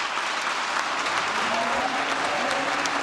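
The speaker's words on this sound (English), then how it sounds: "Governor Gina Raimondo eliciting a standing ovation from the crowd" A crowd at a State of the State address gives a standing ovation, a dense, steady wash of clapping that carries unbroken and fairly loud through the whole stretch.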